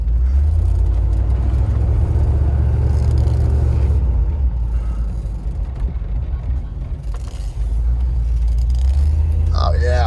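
A 1988 Range Rover Classic short-wheelbase rolls along at an easy pace, its engine a steady, loud low rumble with a slight dip midway, road noise and whir over it throughout.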